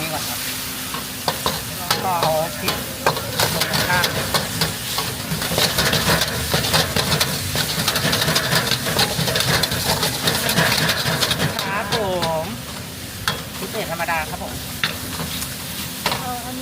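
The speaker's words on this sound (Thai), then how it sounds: "ก็คือพี่เขาจะผัดครั้งละหนึ่งกิโลนะครับ ใช่ครับ ก็เอาหมูลงนะครับ" Pork stir-fried a kilo at a time in a wok with dried chilies for holy basil stir-fry, sizzling loudly and steadily with repeated scraping of the spatula and a low engine-like hum from the burner underneath, all fairly close.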